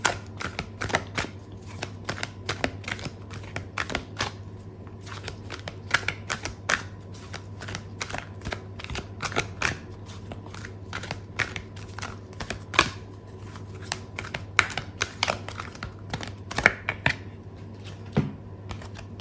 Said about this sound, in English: I'm going to pull out a card for your advice